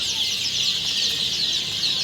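Many A-grade tiger breed chicks peep together in a dense, continuous high-pitched chorus, close and fairly loud, with no voices over it.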